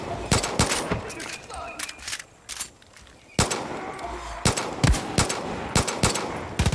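Bursts of rapid gunfire in the video game Far Cry 5 crackle in close succession, sharp and loud, with a brief lull before heavy shooting resumes; a voice speaks faintly underneath.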